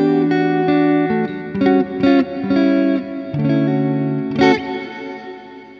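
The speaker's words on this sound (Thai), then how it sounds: "เสียงรีเวิร์บมันก็จะมีความแบบขุ่นๆนะครับบิดไปสุดเลย" Electric guitar notes run through a Strymon Cloudburst ambient reverb pedal with the reverb turned fully up. The playing is a slow series of sustained chords and single notes that smear into a thick, murky wash of lingering tail.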